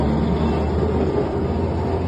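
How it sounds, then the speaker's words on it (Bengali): A city tram rolls past along a busy street near shop stalls, making a steady low rumble and rail drone at close range for the whole moment, with no speech. "সিটিটা বলতে শুধু এই ট্রাম যাচ্ছে"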